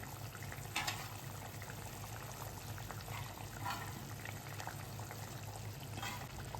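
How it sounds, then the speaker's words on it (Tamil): A pot of fish curry (kulambu) boils at a low, steady level, with soft continuous bubbling and a few slightly louder pops over a constant background hum. "நல்லா குழம்பு கொதித்து எண்ணெய் பிரிஞ்சு வந்துருச்சு பாருங்கள்."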